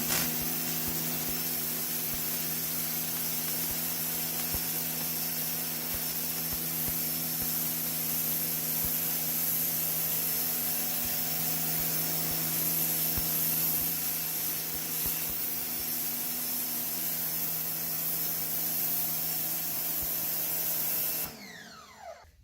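An SPX3000 electric pressure washer on its highest-pressure nozzle blasts caked mud off a floor, a loud continuous hissing spray with a steady motor hum, cutting off abruptly near the end, with no talking.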